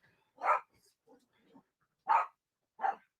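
A dog barks indoors in three sharp, separate barks spaced about a second apart, close and fairly loud, with soft whimpering noises in the gaps.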